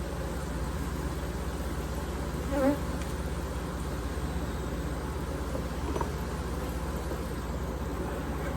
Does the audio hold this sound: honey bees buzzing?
yes